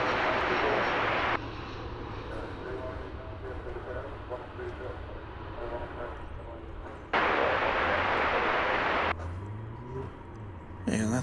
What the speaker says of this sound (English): Our next arrival comes to us from San Antonio, Texas, Flight 1279, American Airlines, and Airbus